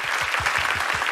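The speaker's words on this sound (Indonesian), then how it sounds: "Kita berikan tepuk tangan kepada MediaCorp TV 12," Concert audience applause at a solo show: continuous crowd clapping under a steady low rhythmic thump from the stage, moderately loud and sustained.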